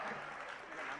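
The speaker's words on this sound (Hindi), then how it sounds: "बार जोरदार तालियों के साथ इनका स्वागत करें।" A brief burst of dense applause from an audience at a religious discourse gathering in Agra, continuous and fairly faint, lasting about a second.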